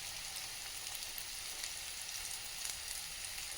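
Stuffed bitter gourd fries in a pan with a steady, even sizzle. The crackle is close and continuous, with small pops throughout.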